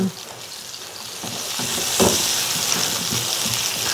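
Chopped tomatoes sautéing in a pan for a Cebu-style pochero, a steady close sizzle with a few stirring clicks and a brief scrape, continuous throughout.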